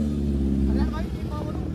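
Heavy road traffic in a city, with a low engine rumble and drone up close that gives way to mixed street noise and a voice.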